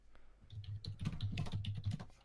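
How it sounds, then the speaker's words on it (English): A computer keyboard clatters with a quick, uneven run of keystrokes, close and fairly quiet, with no talking over it. "I see him typing."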